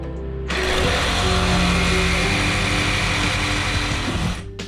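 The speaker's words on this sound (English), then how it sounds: "Next step is to cut this brace right here, and I'll be using a sawzall to do that." A reciprocating saw cuts through a brace during an electrical sub panel changeout, starting abruptly and buzzing loud and close with a rapid rattling stroke for about four seconds before stopping.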